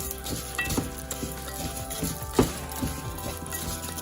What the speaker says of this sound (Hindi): अभी इस पे अपन इसके अंदर बलगर डालेंगे और उसको फ्राई करेंगे थोड़ी देर।